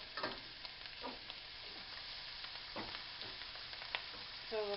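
Butter and oil sizzle steadily in a pan, close and fairly quiet, with a few brief scraping stirs and crackles breaking through the continuous hiss.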